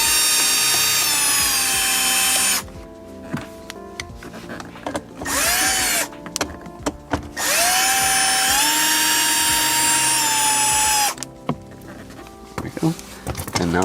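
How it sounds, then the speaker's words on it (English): A power drill backs out two bolts from the lower dash of an Acura TL during a radio swap, whining loudly and close in two long runs separated by short pauses and small clicks. "we've got our two bolts here we're going to take out on the lower part"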